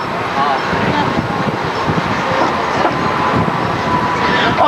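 A Universal Studios Hollywood studio tour tram rolls along in a steady, loud rumble with rattling and wind noise throughout, with a voice faintly present beneath it.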